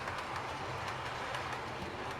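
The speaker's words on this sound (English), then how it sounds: "I've got to have a few trains running." Model railway trains running on a loft layout, heard as a steady, fairly quiet rolling rumble with faint rail clatter throughout, no voices.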